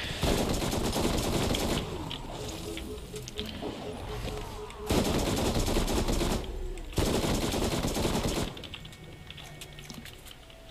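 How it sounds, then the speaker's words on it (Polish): Sniper rifle and weapon fire in Borderlands, dense loud bursts of rapid shots and mechanical clatter in long stretches broken by short pauses, over game noise. "Ty dalej ze snajperki walisz?"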